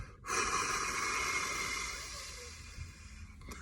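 A single strong exhale during a Wim Hof–style breathing exercise pushes the lungs empty, a close, breathy rush that peaks quickly, then fades slowly over a few seconds.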